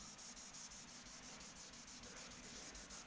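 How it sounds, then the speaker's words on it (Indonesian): Cotton rubbed over a pencil-coloured face sketch gives a faint, soft, rhythmic scrubbing of quick regular back-and-forth strokes, close and without talk. "Kita gosok dengan kapas biar warnanya rata."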